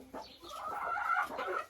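A hen gives a short run of soft, close clucks and murmurs, a brief burst of farmyard chatter with no talking.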